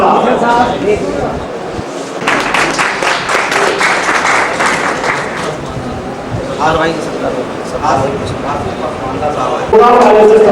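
Audience applause at a regional party workers' meeting in a hotel hall, welcoming Irfan Ahmad: steady, dense clapping throughout with a voice speaking over it.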